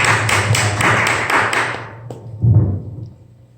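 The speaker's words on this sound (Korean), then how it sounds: "주님께 영광의 박수를 드리겠습니다." A church congregation at a Wednesday prayer service claps together in quick rhythmic bursts that fade out, with a few soft thumps and a short swell of room noise near the end.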